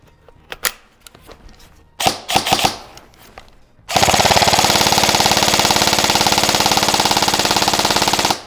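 Airsoft M4 rifle with an Evolution gearbox fires full auto from a green-top Amarok 250-round mid-cap magazine, a few light clicks and handling knocks first, then a loud, rapid, steady mechanical burst lasting over four seconds.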